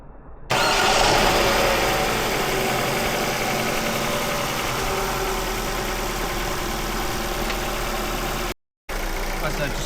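A 25-year-old Ford Focus engine runs steadily at idle while warming up, a close, continuous mid-pitched hum and rattle that starts abruptly, holds for several seconds and cuts out briefly near the end.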